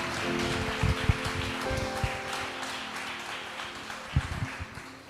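A church congregation applauds during a sermon, a dense hiss of many hands clapping, with a few sharper claps and low tones in the background.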